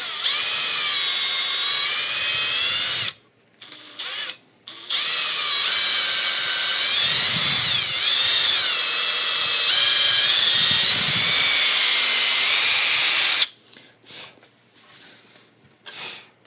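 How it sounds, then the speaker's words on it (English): A loud, high-pitched power drill whines steadily for several seconds as it drills through wood from one cavity to another, briefly cutting out twice, then stops, leaving a quieter background. "I'm going to drill one from this cavity to the other one."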